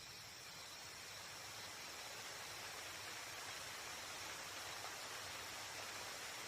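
Steady broadband rush of a waterfall, continuous and even throughout, with no voices over it, heard in a Hindi-dubbed horror anime.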